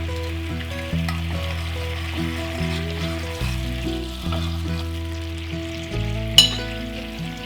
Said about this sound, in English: Add teriyaki sauce ingredients to the pan. Slightly increase the heat and stir the sauce.